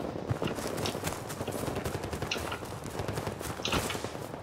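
Rapid gunfire from Battlefield 2042 in a battle royale mode, a dense, continuous run of sharp shots with some quieter, more distant-sounding bursts, with no talking.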